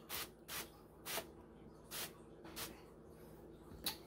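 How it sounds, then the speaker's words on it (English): Several short bursts of avocado oil spraying, about six quick hisses spaced irregularly, fairly close and soft against a quiet background. "spray some avocado on it"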